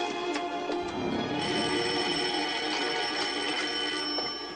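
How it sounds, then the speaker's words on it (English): A telephone rings in a home, a steady electronic bell tone repeating across the moment at even loudness with no talk over it. "That's my phone."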